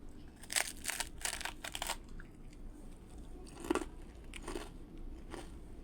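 Someone bites and chews a crisp fried aloo puri snack up close, with a few loud crunchy bites in two clusters separated by quieter chewing.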